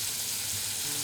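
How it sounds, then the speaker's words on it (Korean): Meat grilling over a coal briquette (yeontan) fire, a steady dense sizzle and crackle held evenly throughout, close and fairly loud, with no voices. "연탄 위에서 지글거리며 구워지는 소리가"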